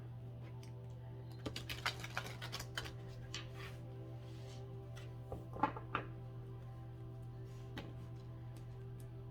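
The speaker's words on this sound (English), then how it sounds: "we'll do one more shuffle here before we cut." A deck of tarot cards is shuffled quietly, producing scattered soft clicks and card flicks in irregular clusters over a constant low electrical hum.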